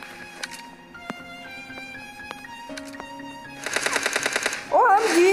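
Gunfire from the PUBG Mobile Lite video game, a rapid burst of shots fired in quick succession, loud and close, followed by a brighter sweeping game sound at the end.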